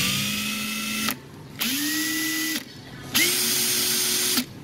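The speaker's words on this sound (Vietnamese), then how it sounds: "Chế độ bắt vít có búa thì nó lại có 3 cái cấp chỉnh lực búa." A Japanese-domestic Makita multi-function cordless screwdriver running in hammer screwdriving mode: three close bursts of about a second each, a steady whirring motor with a rapid hammering buzz that spins up and stops abruptly between pauses.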